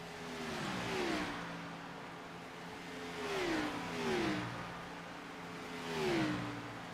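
Race cars racing at Homestead, several engines rising and falling in pitch as they pass at a distance, three sweeping surges over a constant background rumble.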